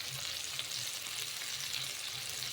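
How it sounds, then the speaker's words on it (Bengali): Masala of chilli and turmeric powder fries over a low flame for a prawn curry, giving a steady, close, even sizzle that runs unbroken with faint low pops and no voices. "আঁচে আস্তে আস্তে করে ভেজে নেব মশলাটা"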